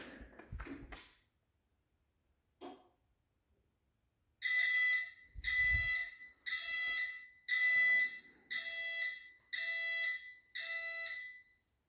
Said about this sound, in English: Seven beeps still.